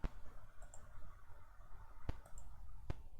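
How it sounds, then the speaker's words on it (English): Computer mouse clicks during a horror game session, a few sharp isolated clicks spaced apart over a steady low background hum, fairly close and quiet. "I'm going to just try clicking anyway"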